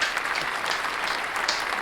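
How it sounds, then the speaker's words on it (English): A burst of applause, dense steady clapping from a crowd, loud and continuous throughout with no voices over it. "Round of applause, please, everybody."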